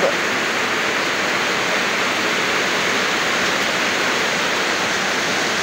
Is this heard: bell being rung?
no